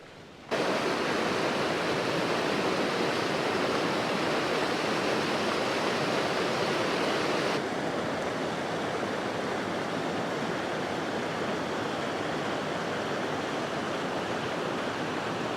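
Steady rushing water flows in an outdoor natural spot, a continuous broad wash of sound like a stream or small waterfall, loud and unbroken after a brief quiet start, with no voices.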